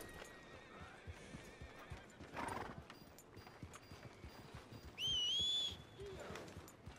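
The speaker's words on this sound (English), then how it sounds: "Where's me horse? Come on, horsey." A horse in Red Dead Redemption 2 makes steady, close clip-clop hoofbeats and lets out a short whinny. A sharp, rising whistle calls it.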